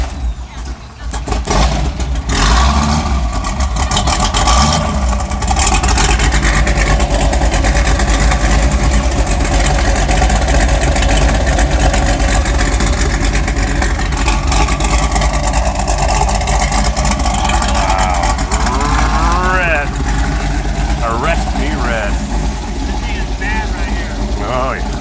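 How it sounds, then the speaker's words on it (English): A 427 engine cranks over cold, fires and keeps running with a loud, steady rumble. An electric fuel pump runs with it, and a faint whine rises near the end. "Electric fuel pump, crank that baby up."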